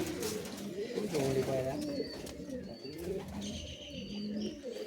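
Giribaj pigeons coo softly nearby in low rolling phrases, mixed with faint rustling, background chatter and other bird chirps in a busy outdoor setting.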